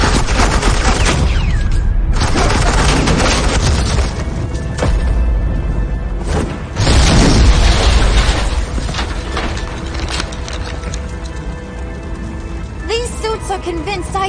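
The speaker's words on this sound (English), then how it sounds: "This is Agent Quinn, suppressing fire." Suppressing gunfire in the video game Batman: The Enemy Within, with loud, dense bursts of shots and crashes running the full length, mixed with game effects and a voice speaking over the action.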